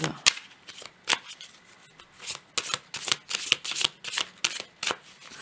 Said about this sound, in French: Je vais tirer une carte de l'oracle.